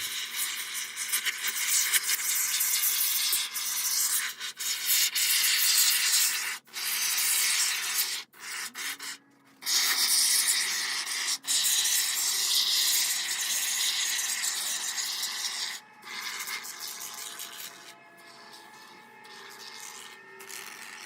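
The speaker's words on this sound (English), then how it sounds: "So we'll fill this thing up and we'll cut off the excess and let it dry," Expanding foam sprayed from a can into a guitar case during a repair, a long hissing spray that runs in several bursts with short pauses, close and steady, no talking.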